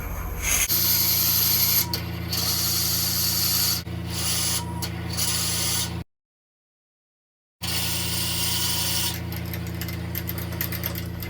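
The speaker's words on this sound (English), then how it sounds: "I've now added the Forstner bit extension so we can continue drilling down the body" A Forstner bit bores into a butternut pepper grinder body on a wood lathe, giving a loud, steady grinding rasp over a constant motor hum, cut off by a gap of silence before the drilling resumes.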